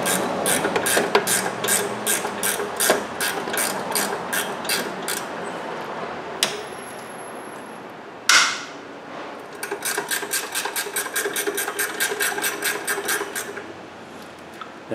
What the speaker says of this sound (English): you can see I'm using the ratcheting wrench. It makes it a little bit easier.